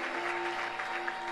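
A church congregation applauds steadily throughout, a dense continuous wash of clapping at moderate volume, with a faint sustained tone beneath it.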